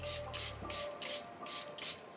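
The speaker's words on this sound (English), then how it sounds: "I'm going to spritz my face with the Airbrush Flawless Setting Spray by Charlotte Tilbury." Charlotte Tilbury Airbrush Flawless Setting Spray misted onto a face in about six quick, close hissing spritzes in an even rhythm, with no talking.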